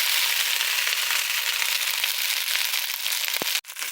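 Cooked rice hisses and sizzles as it is stir-fried in a hot pan for fried rice with rutabaga, a steady loud crackling frying sound that runs without pause, broken near the end by a brief clack of the utensil.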